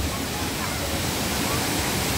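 Kasabangan waterfall on Biliran island roars loud and close, a dense, even rush of water filling the whole clip, with voices mixed faintly under the noise.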